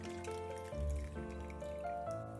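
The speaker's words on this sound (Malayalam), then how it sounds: "ഈ കപ്പിൽ ഒരു 3 കപ്പ് വെള്ളം ഒഴിക്കാം ആദ്യം തന്നെ." Water pours from a cup into a cooking pot, a short trickling stream whose pitch rises in steps as the pot fills, close and fairly quiet with no talking.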